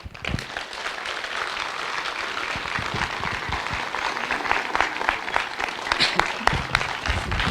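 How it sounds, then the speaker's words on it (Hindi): Audience at a sales training seminar gives sustained, even applause for over seven seconds, a thick wash of many hands clapping with a faint voice underneath. "एक बार जोरदार तालियां"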